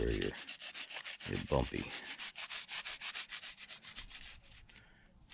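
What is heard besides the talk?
rubbing cloth over a 1976 Gibson Les Paul Custom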